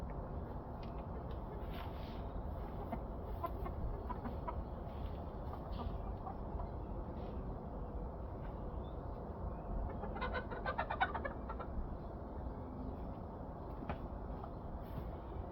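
A chicken clucks and murmurs repeatedly close by, with a brief burst of louder clucking midway, over a constant rumbling background.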